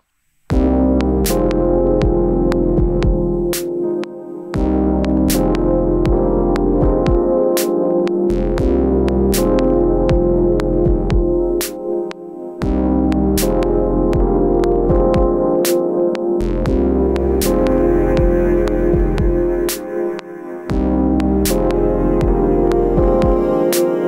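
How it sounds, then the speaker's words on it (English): A simple synth bass line loops in Ableton Live, a loud, deep, throbbing bass pattern with a sharp percussive tick repeating in a steady rhythm, the same phrase cycling several times without any voice. "let's go ahead and record a super simple bass line"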